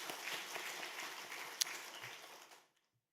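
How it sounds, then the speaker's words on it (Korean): Faint applause from a congregation at an early-morning church service, a soft, distant wash of clapping that fades and cuts off into silence near the end. "오늘 말씀을 허락하신 하나님께 영광의 박수 올리겠습니다."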